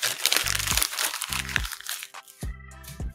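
A sheet of paper is crumpled by hand in three crackling, crunching bursts separated by short pauses. It is close and clear, with no talking.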